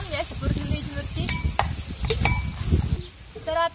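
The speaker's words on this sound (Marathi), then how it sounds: "तर आता आपण मिरची टाकलेली तव्यावरती आणि चांगली अशी परतून द्यायची मिरची" Green chilies fry and get stirred on a hot griddle, giving a busy close sizzle with scraping strokes and a few sharp metallic clinks. A voice talks intermittently over the cooking.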